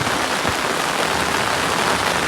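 Loud, unbroken downpour of heavy rain in Patan, Gujarat, a thick steady roar of water falling nearby.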